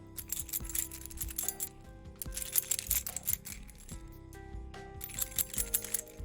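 A bunch of metal keys jingles in bursts close to a microphone, with bright metallic clinks and rattles sounding muffled, repeated in three shaken clusters over a steady background with no talk.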